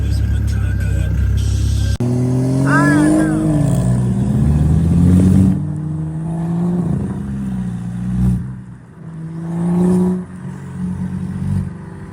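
Turbocharged BMW 535i with a big turbo revving and accelerating on the street, loud and close, engine notes rising and falling in surges, with voices talking over it.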